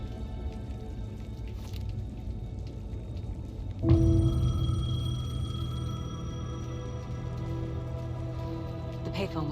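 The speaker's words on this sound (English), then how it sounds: "The payphone was ringing." A payphone rings out in the rain in the video game Alan Wake 2. Steady rainfall hisses throughout, then a sharp ringing tone cuts in and sustains over the continuing downpour.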